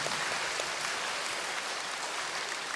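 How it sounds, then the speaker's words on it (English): Sustained audience applause for school performers at a graduation-style event, a dense steady wash of clapping hands with no pauses, moderately loud throughout. "Can we give a big round of applause to all the performers"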